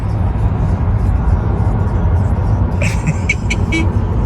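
Car cruising along the M42 motorway, a loud steady road and engine roar heard from inside the cabin, with brief faint sounds from the cabin near the end.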